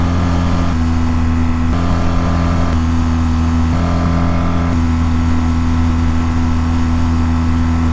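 A BMW GS motorcycle engine held at about 5,000 RPM, loud and steady with a constant droning hum and slight pulses, no talking.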